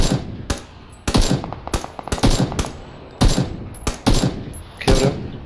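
Assault rifle fire in PUBG, loud close bursts of several rapid shots separated by short pauses, repeating across the stretch with sharp cracks and brief tails.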